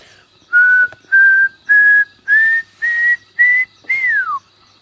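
A person whistles an imitation of a pearl-spotted owlet call: seven clear, rising whistled notes in a steady series, the last one sliding downward. The notes are close, loud and alone, with no talk over them.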